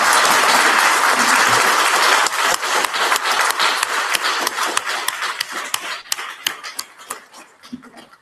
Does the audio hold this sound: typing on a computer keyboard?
no